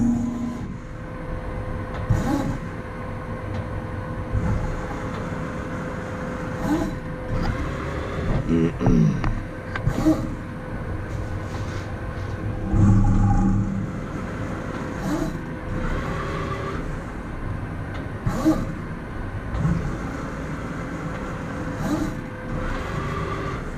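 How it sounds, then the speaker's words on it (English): A CNC lathe cuts a coarse thread in a machine shop, a steady low mechanical hum with periodic clicks and pass changes repeating over the whole stretch, fairly close and loud. "the machine is threading a pretty coarse thread, so it doesn't like to go fast"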